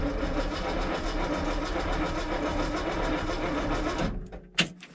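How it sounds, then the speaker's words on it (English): Ford high-boy truck engine being cranked over on a cold start, a steady rhythmic churning of the starter for several seconds, then stopping, followed by a sharp clunk. "I'm just gonna roll the engine over a little bit to turn the mechanical fuel pump"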